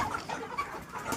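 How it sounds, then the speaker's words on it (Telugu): A rooster clucks in a few short, close bursts, its throaty calls rising over a low background. "ఇది పుంజు అన్నమాట"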